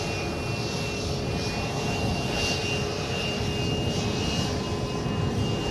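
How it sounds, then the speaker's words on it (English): A Ryanair airliner takes off at Edinburgh airport, its jet engines giving a steady, broad roar that stays loud and even throughout, with no voices. "Ryanair is off to Mallorca."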